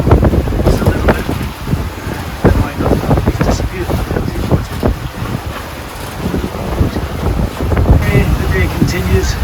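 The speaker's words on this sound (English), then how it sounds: "The wind's maintaining its strength, if not more, and we're whizzing along." A sailboat runs hard through rough water in strong wind, with steady roaring buffeting across the microphone, rushing spray and hull slap, and some indistinct talk beneath.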